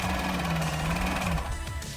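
A sewing machine stitching together the piping lines of a maxi dress, a steady close mechanical whir with a buzzing hum that stops just before the end.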